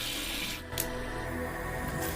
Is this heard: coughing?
no